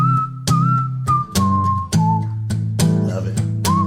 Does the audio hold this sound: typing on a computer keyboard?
no